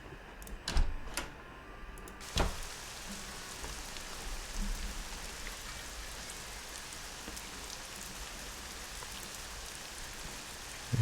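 Steady rain falls in the Nancy Drew: Legend of the Crystal Skull video game, a continuous soft hiss of drops with a few sharper taps early on, alone without voices.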